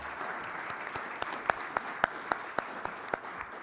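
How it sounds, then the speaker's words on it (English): Applause from a luncheon audience for a woman named Amber, a steady wash of clapping with a few sharper individual claps standing out near the front, fairly quiet and sustained throughout. "Another round of applause for Amber."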